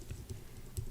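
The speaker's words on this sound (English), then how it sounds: "I'm going to start by typing equals" A few soft, close keystrokes tap on a computer keyboard while a formula is entered in an Excel spreadsheet, quiet and brief with no talking.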